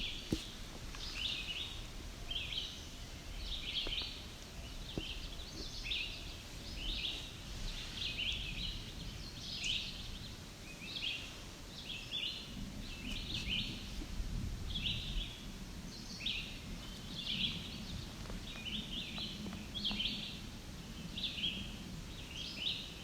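A songbird in juniper flats sings short, bright phrases, repeated at steady intervals throughout. The song is faint and somewhat distant, over a soft background rustle.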